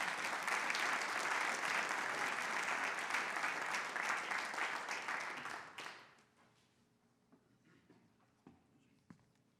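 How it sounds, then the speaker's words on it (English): A theater audience at a public talks event applauds loudly and steadily, a dense wash of clapping that fades away after about six seconds, leaving a quiet room with a few faint knocks. "A round of applause"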